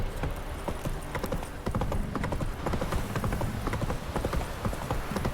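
Steady clip-clop of horse hooves trotting in an even rhythm, close and continuous for several seconds, in the video game The Witcher 3.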